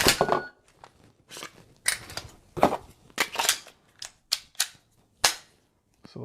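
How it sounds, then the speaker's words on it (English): Sharp pistol shots from a Glock 17 during reload drills crack out in an irregular series, roughly a dozen close, loud bursts separated by short gaps and quiet handling noise. "let's fire a shot after a reload"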